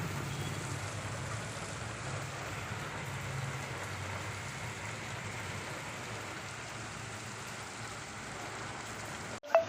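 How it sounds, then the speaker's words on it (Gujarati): Heavy rain falls in a steady, dense wash around a truck waiting to unload in India, with a low rumble underneath, ending in a brief knock. "વરસાદ થઈ ગયો અત્યારે ફૂલ ચાલુ"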